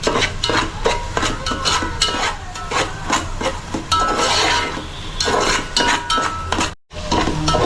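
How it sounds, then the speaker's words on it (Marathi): Ginger-garlic paste being stirred and sautéed in a pan for a Malvani-style crab dish, with steady metal spoon scrapes and clinks against the pan over a continuous sizzle, close and fairly loud. "आलं पेस्ट लसणाची पेस्ट परतवून घ्यायची प्रॉपरली शिजवायची आहे"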